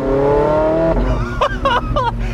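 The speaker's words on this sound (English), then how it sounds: "now I can hear that glorious motor because the exhaust is right there and it sounds so good" A Porsche 918 Spyder engine drones steadily up close with the roof off, then revs in a few rising bursts with a throaty exhaust note.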